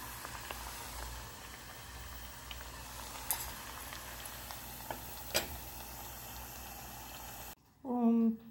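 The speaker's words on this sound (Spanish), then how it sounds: "Vamos a volverlo a freír." Green plantain slices frying in hot oil for tostones: a steady, close hiss of sizzling with occasional pops. It cuts off near the end as a voice begins speaking.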